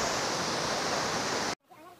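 Manthoka waterfall in Skardu pouring with a loud, steady broadband roar of rushing water, close by, then cut off abruptly near the end leaving a faint quiet tail.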